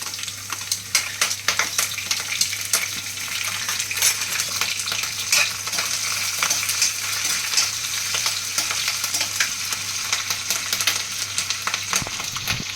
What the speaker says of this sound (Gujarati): લસણ થોડું ફ્રાય થઈ જાય એટલે આપણે મરચાંની કટકી નાખીશું